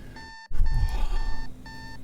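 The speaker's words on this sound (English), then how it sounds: "After shutting off the alarm" Alarm clock ringing in the Doki Doki Literature Club mod Doki Doki Relapse: repeated electronic beeping tones in steady bursts, cutting off briefly early on, then ringing on loudly over a rumbling low background.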